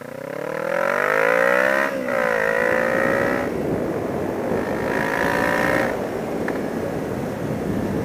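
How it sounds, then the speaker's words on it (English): A 2014 Kawasaki Ninja 650 with a new Two Brothers M-2 aftermarket exhaust rides and accelerates through the gears, engine revving up and dropping between shifts, loud and close over steady wind noise. "Alright, first ride with a new exhaust."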